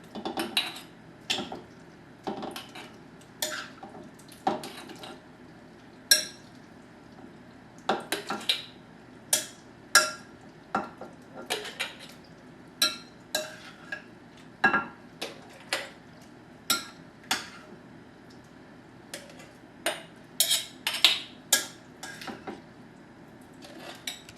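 Spoonfuls of mango chutney go into glass mason jars, with a long irregular run of close clinks and taps of metal spoon on glass, some sharper than others, and no talking.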